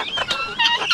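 Pet chickens clucking as they forage, a few short bursts close by over about a second, fairly loud and alone.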